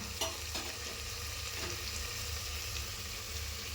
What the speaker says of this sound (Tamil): கேரட், பீன்ஸ், ஒரு உருளைக்கிழங்கு, கொஞ்ச நேரம் வதங்கட்டும்